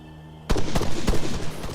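Gunfire in an Arma III night firefight: after a brief quiet lead-in, a burst of sharp shots crackles out in an irregular volley, several loud reports in quick succession echoing over the scene.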